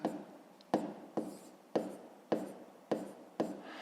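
Pen or pencil writing out numbers for a fifth-grade decimal math exercise: repeated scratchy strokes, about seven distinct bursts in steady rhythm, close and fairly quiet, with no talking.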